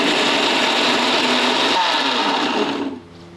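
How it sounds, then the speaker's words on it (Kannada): A mixer grinder finely grinds masala spice powder, a loud, steady high-pitched motor whine that runs close for nearly three seconds before winding down and cutting off. "ಇದು ಮುಚ್ಚಿ ನುಣ್ಣಗೆ ರುಬ್ಕೋತೀನಿ ರೀ"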